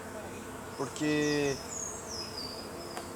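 A strong swarm of bees buzzes around a hive after a cold spell, a steady faint hum with a louder close pass of a single insect, while a voice speaks briefly.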